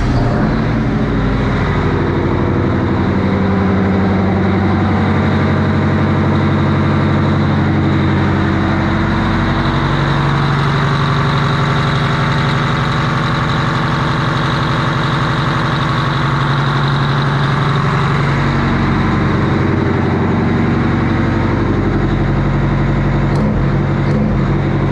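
A Detroit Diesel 8V92 engine in a truck idles with a deep, steady, throbbing rumble, loud and close, running continuously without any talk.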